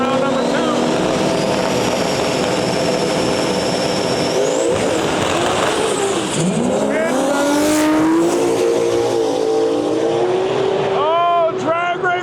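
Drag racing cars, including a Toyota Supra, launch down a drag strip, making a loud, sustained engine roar that rises and shifts pitch as they accelerate into the distance, with crowd and announcer noise mixed in.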